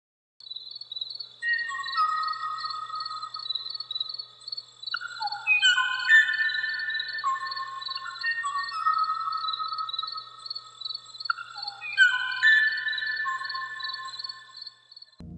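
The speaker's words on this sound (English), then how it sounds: "you can hear the last singing of the Kawaiioo that was supposed to be a duet." A recorded song of the extinct Kauai oo bird: clear, whistled flute-like phrases repeated in two bursts over a steady high insect-like trill, sparse and somewhat distant.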